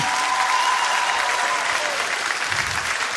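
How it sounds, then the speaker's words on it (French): A theater audience at a Francophonie Games talent contest in France bursts into loud, dense applause, a sustained roar of clapping with a faint crowd murmur beneath it. "Si vous pouviez les applaudir et les encourager, s'il vous plaît"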